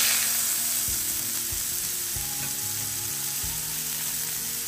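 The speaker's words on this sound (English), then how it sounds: "Sizzle, baby, sizzle." Lamb chops sizzle and fry in a hot pan, a constant crackling hiss close to the microphone with occasional scrapes and knocks of the pan; no one speaks.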